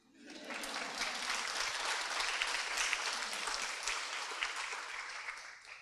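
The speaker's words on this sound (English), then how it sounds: "Do you guys want to clap now?" Audience applause fills a panel session at the ATEPS 2025 event after a minister's remarks, a dense, steady wash of clapping that swells in quickly and holds at an even level without talk.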